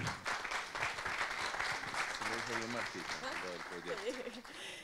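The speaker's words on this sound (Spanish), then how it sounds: "un aplauso para Marta" Fairly quiet applause from attendees at a soft-skills training event welcoming a speaker, a soft even rustle of clapping hands with a voice starting to speak partway through.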